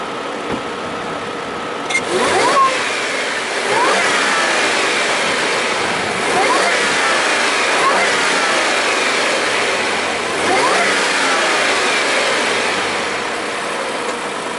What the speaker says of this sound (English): V6 TFSI. Let me give a couple of revs to it.